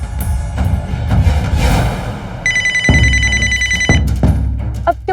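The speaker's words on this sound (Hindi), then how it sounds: "आपके बॉस का फोन आ रहा है।" A telephone rings repeatedly in short bursts, an electronic ring tone with clear gaps between rings, mixed with thumps and background noise in a dramatized domestic scene.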